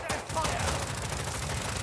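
Dense, continuous gunfire in the shooter game Warzone 2 DMZ, with overlapping rapid automatic bursts forming a loud, unbroken barrage for the whole stretch.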